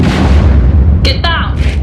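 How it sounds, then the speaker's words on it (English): A heavy low explosion rumble in an audio drama scene of a military base under attack, followed by a short burst of sharp gunfire cracks, loud and close. "It sounded like an explosion. Now gunfire."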